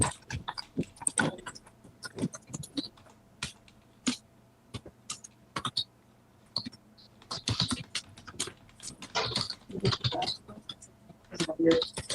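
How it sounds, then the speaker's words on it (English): Someone types on a computer keyboard in a criminal courtroom, irregular bursts of close clicking keys with pauses between flurries, under occasional quiet talk. "Just gonna be typing all day?"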